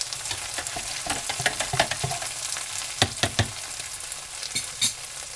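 Residual beef juice in a pot sizzles while being stirred, with a low steady bubbling hiss broken by sharp scraping clicks of the utensil against the pot, close and without talk.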